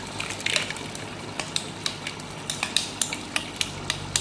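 Fried onion masala paste being stirred into chicken and chickpeas in a pot, giving a run of sharp, close spoon scrapes and clinks at an uneven rhythm over a soft background hiss.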